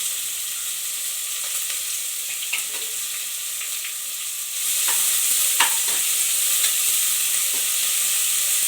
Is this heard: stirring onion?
yes